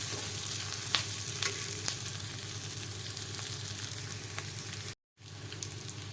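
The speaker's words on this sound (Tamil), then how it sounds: "இதையும் எண்ணெயில் போட்டு நல்லா வதக்கிடுவோம்." Onions and coconut sauté in hot oil for chutney, a steady close sizzle with faint stirring clicks. The sizzle runs throughout and drops out briefly near the end.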